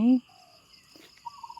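Outdoors near banana trees in the morning, frogs and birds call in a steady, faint chorus of thin high trills, with a clearer bird note near the end and a brief voice at the start.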